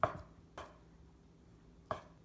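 Three crisp knife strokes through Spam on a cutting board, thin slices cut at an uneven pace, each a clean close tap with quiet gaps between.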